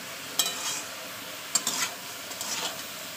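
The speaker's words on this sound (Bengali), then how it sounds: "এবার মেটে কষাতে থাকবো" Chicken or goat liver sautéing in a pan with salt, turmeric and green chili: a soft, steady sizzle under a few sharp scrapes and stirs of a spatula, with no talking.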